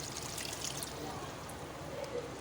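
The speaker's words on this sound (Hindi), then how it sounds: "अब इसमें हम 4 गिलास पानी ऐड कर देंगे" Water poured from a glass into a pot of mutton chops seasoned with salt and red chilli powder, a soft steady splashing stream, fairly faint and continuous.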